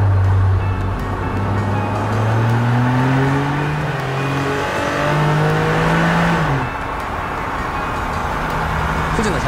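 A 2025 Toyota GR Corolla drops through gears on deceleration, each downshift punctuated by a sharp automatic rev-matching blip, the tone sweeping down and jumping up repeatedly, loud and close.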